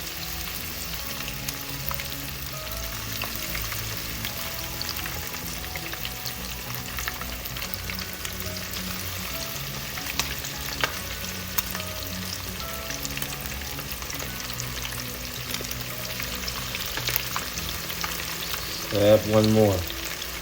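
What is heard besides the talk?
karaage chicken deep-frying in oil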